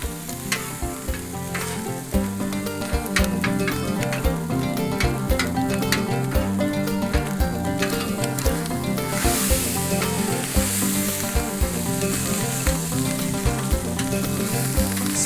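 Spam and rice fry on a camping grill, a steady loud sizzle and crackle with scraping and stirring running throughout and no voices.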